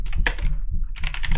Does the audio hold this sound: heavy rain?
no